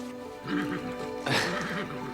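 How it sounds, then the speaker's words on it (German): Two wavering, whinnying calls like a horse neigh sound close by, one after another, over a steady background hum. "Schönes Pferd."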